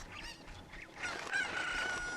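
Chickens in the Zelda game Ocarina of Time, with honking, squawking calls close by and a louder, sustained cluck-and-crow stretch in the second half, with no talk.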